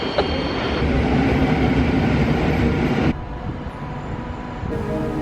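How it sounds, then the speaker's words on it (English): A train pulls into a station in Poland, a loud, steady rumble and rolling clatter that drops off sharply partway through, leaving a lower hum before the noise rises again. "That's our train."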